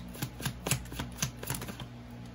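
Tarot cards being shuffled by hand, a quick run of soft riffling slaps and flutters in an uneven rhythm, close and fairly quiet against a low background hum.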